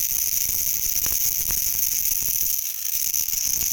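Spices crackling as they dry roast in a hot pan for homemade masala powder, a steady close hiss with scattered small pops and crackles running throughout, no voices.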